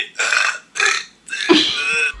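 Three drawn-out burps in a row, loud and close, the last one longest and deepest, with no talking over them.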